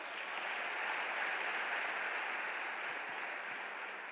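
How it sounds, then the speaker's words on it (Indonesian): An audience at an indoor business seminar gives continuous applause, a dense, steady roar of many hands clapping that holds at even loudness throughout, with no voices heard. "aplaus buat Anda semuanya"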